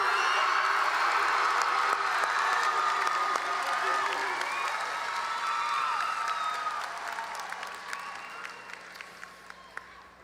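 Crowd at a Round Rock middle school graduation ceremony applauding and cheering loudly, a dense wash of clapping and shouts that gradually thins out and fades toward the end.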